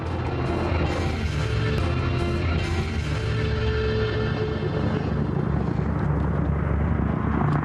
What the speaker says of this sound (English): Coming up, the Apache Longbow in action.